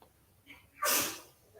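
A single loud human sneeze bursts out midway, preceded by a faint inhale, then fades into quiet room tone.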